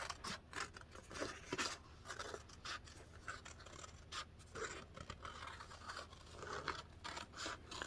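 Scissors fussy cut a picture out of paper for a quilted cereal-box hardcover journal, giving quiet, close snips and papery scratching at an uneven pace, with no talking.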